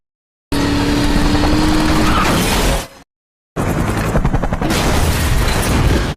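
Film action effects: a car crashes through a toll gate and leaps into a helicopter, a loud roaring impact cut short by a brief silence, then another sustained blast of explosion and debris.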